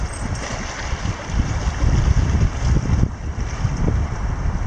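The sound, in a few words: wind blowing by a lake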